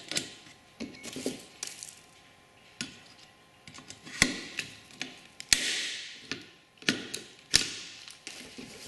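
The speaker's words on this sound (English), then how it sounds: "So now I'm going to remove the cleco, grab a rivet," Aircraft skin is worked with clecos and rivets, producing a string of sharp metallic clicks, snaps and ratchety taps at irregular intervals, close and fairly loud against a quiet background.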